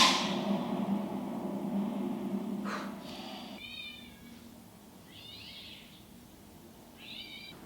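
A cat meows several times in a scene from the film The Prestige. The first cries sit under faint background sound, and the later meows are short and moderately close. No one speaks.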